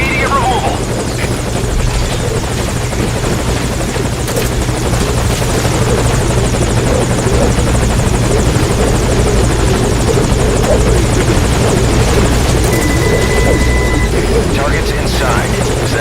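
A helicopter hovers over a landing zone in the video game Metal Gear Solid V: The Phantom Pain, its loud, steady rotor thrum and engine drone filling the whole stretch without a break.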